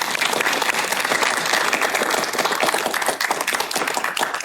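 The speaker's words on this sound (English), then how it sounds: "So let's give them another applause." A lecture-hall audience at a free public astronomy talk claps steadily for students, a dense, loud wash of applause that continues without pause throughout.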